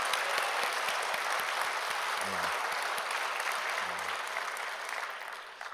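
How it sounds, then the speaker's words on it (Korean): A church congregation claps steadily in praise during an evening service, forming a dense, even wash of applause that fades slightly toward the end. "하나님께 영광의 박수 한번 올려드리겠습니다"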